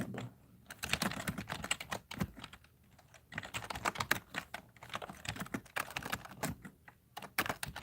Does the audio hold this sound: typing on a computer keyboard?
yes